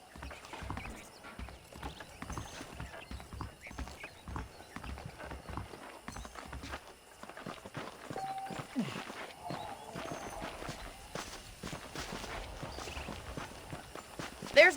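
Horse hooves clip-clopping in Red Dead Redemption, a steady walking rhythm of soft hoof beats that runs throughout at moderate loudness, with a voice speaking over it.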